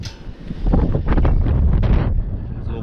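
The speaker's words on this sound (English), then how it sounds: "It's a little windy today." Strong gusts buffet the microphone at a pond during trout fishing in Austin, Texas, a loud low rumble that swells and stays heavy before easing off.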